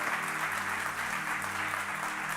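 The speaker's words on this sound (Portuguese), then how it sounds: "pode aplaudir para o Senhor" A church congregation applauds to praise the Lord, a soft, even rush of clapping from a crowd, steady and fairly distant with a faint low hum beneath.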